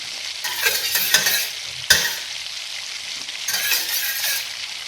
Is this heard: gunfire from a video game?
no